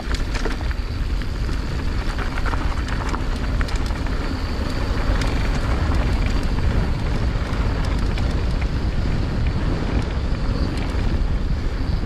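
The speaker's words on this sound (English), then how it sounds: "So windy." Steady, heavy wind buffeting the microphone on a mountain bike trail, a constant roaring rush with occasional gusty crackles.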